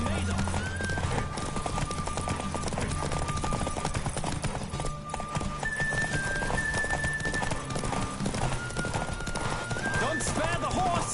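Horse galloping in a race, its rapid hoofbeats pounding under a rider's shouts, with whinnies and a busy background of crowd noise.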